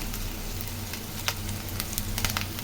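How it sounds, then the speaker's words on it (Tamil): Banana flower fritters dropped one by one into hot oil in a kadai, frying with a steady crackling sizzle and scattered louder pops, close and continuous. "நம்ம கடாயில் எண்ணெய் காய வச்சுருக்கேன் இதில் வந்து மெது மெதுவாக ஒன்று ஒன்றா போட்டிருக்கேன்"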